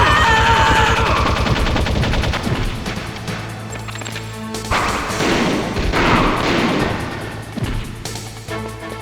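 Gunfire in a Metal Gear Solid cutscene, loud rapid shots with sharp impacts and crashing debris, followed by a rumbling, echoing aftermath.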